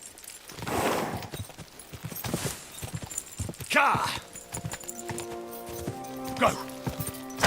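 Horse galloping in the video game Kingdom Come: Deliverance II, with rhythmic hoofbeats running under loud shouting voices and game music.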